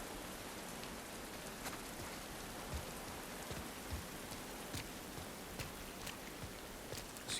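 Steady rain pours down in The Last of Us Part II, a dense even hiss with scattered louder drops and splashes striking nearby surfaces, with no voices over it.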